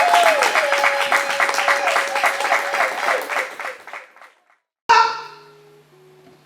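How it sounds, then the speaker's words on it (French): A women's church conference congregation breaks into sustained, loud applause mixed with cheering and a ringing voice, which fades out before a sudden cut to other sound. "Acclamons pour la gloire de Dieu."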